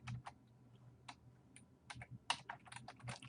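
Quiet keystrokes click and patter at an uneven pace on a computer keyboard, with soft room hum and a few sharper taps.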